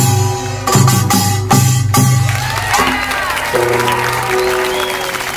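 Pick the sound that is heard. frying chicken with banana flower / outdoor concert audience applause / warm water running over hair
outdoor concert audience applause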